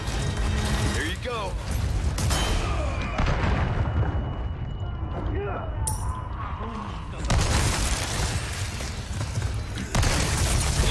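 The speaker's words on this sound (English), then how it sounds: "The shotgun actually works wonders, guys." Gunfire in the Resident Evil 4 Remake video game during a fight against the boss Major Krauser, with heavy shotgun-like booms and bursts among game effects, while someone talks over the action.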